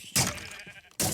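Two short, loud sheep bleats in the Minecraft MineFantasy Reforged game, one near the start and one near the end, with quieter game sounds between.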